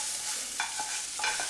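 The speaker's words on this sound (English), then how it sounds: "Put everything back into the curry and give a good stir" A spoon stirs yoghurt curry in a pot, a few distinct scraping and clinking strokes over a soft steady background hiss, close and alone without talk.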